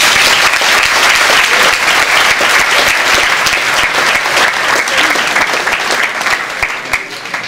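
Sustained applause from an audience at a business school event, dense steady clapping that stays loud throughout and thins slightly toward the end, with no voices over it.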